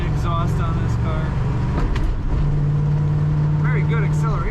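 A 1964 Chevrolet Chevelle Malibu SS with a five-speed manual cruises in fifth gear with a low, steady engine drone, while someone talks over it for much of the stretch.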